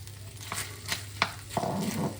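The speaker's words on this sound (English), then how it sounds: "we've got a little bit of butter in there. Going to add in the onions" Onions frying in a little butter in a pan give a steady close sizzle, broken by a few soft stirring scrapes and taps, with no talk.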